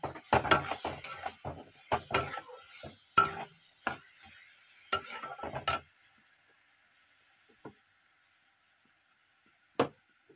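Fried pointed gourd is stirred in a pan, with a burst of sharp spoon scrapes and clanks against the metal over a light sizzle, then mostly quiet with two isolated knocks.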